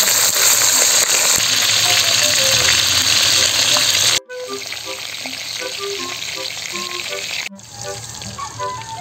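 Smoked pork belly fries in a pan with a steady, loud sizzle and crackle throughout, briefly dropping and resuming as the food settles, with no talk.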